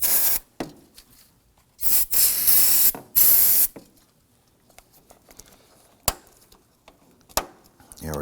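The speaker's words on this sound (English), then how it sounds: "You take a little bit of spray solvent" Several short hissing bursts of solvent spray from a can onto a Volvo XC90 headlight connector, the longest lasting about a second, separated by quieter pauses with faint handling clicks.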